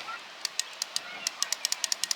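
Pressure switch on an RV water pump clicking, a rapid run of about fifteen small sharp ticks that speed up over two seconds, quiet and close with a faint voice in the background.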